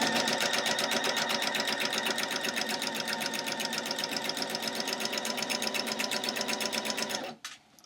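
A sewing machine runs a straight stitch on scarf fabric, a loud, even, rapid needle rhythm that holds steady for several seconds before stopping abruptly.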